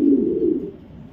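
Racer pigeon giving a low, rounded coo that swells early, then fades into quieter murmuring; close and clear, with no talking.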